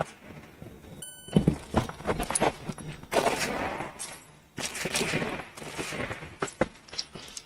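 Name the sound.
gunshots during a USPSA shooting stage run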